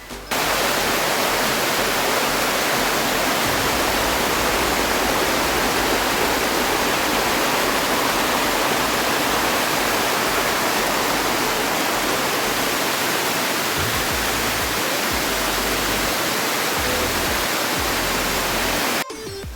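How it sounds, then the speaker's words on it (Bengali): Ruposhi waterfall on the Kamaldah trail in Sitakunda roars as a dense, continuous rush of falling water heard from very close, loud and unbroken, with no voices. "খালি ঝর্ণার একদম কাছে যেয়ে সুন্দর পানির শব্দ শুনতে থাকি"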